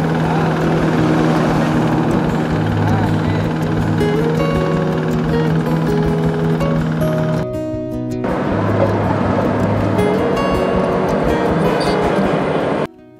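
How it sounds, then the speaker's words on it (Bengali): A hand-operated pressure compactor pounds soil at an overpass construction site on the Dhaka–Rangpur highway, making a loud, continuous engine drone with a fast thumping throb. It cuts out briefly midway, then resumes. "হ্যান্ড প্রেশার মেশিন দিয়ে মাটিকে চাপ দিয়ে শক্ত করা হচ্ছে"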